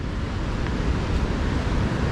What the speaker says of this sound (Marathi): समुद्र बघा, पाणी भरती आहे,